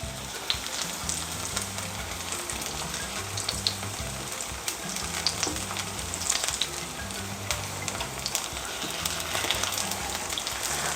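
Kimchi pancake batter fries in a generous layer of hot oil, giving a steady, close sizzle with scattered crackles and pops and no voices.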